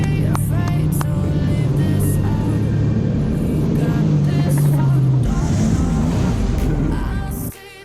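A Sea-Doo Spark Trixx personal watercraft spins reverse donuts on open water, its engine a loud, steady droning roar that shifts pitch midway and drops off at the end.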